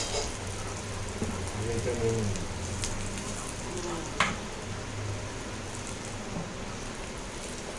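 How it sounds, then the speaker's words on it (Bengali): Onions fry in a pan for a fish curry, giving a soft continuous sizzle with occasional clinks and stirring taps, fairly quiet, while voices murmur faintly in the background. "পেঁয়াজটা আবার বেশি ভাজা হয়ে যাবে।"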